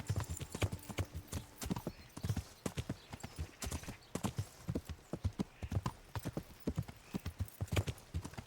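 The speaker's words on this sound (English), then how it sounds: "Horsey! Horsey! There he is." A horse gallops in a video game, its hooves close and distinct, striking in a quick, steady rhythm with no pause.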